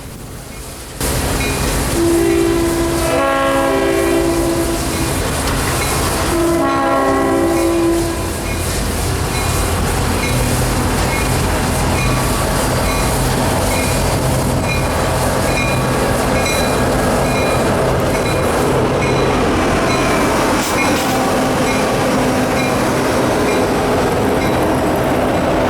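An eastbound grain train led by EMD SD70 and SD70M-2 locomotives, built in 1993 and 2006, rolls past at close range. A loud diesel rumble and clattering wagons fill the scene, and two horn blasts sound early on.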